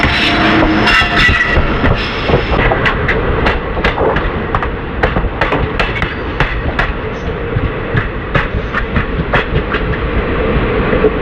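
A Chennai Central–Mangalore express rushes past, loud and close, with a continuous roar and rapid clickety-clack of wheels over rail joints throughout.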